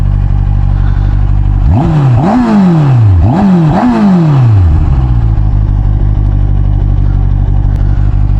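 A loud SRK 800 RR motorcycle engine idles close by in the mountains, then revs up sharply several times in quick succession before settling back to a steady rumble.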